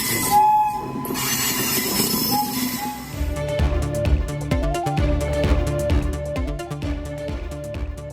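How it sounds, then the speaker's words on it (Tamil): A Vande Bharat train on the Delhi–Howrah route, stalled midway by a technical fault, with a horn blast followed by rolling wheels and rhythmic clattering, loud and close. "டெல்லி ஹவுரா வழித்தடத்தில் தொழில்நுட்ப கோளாறு காரணமாக நடுவழியில் நின்ற வந்தே பாரத் ரயில்"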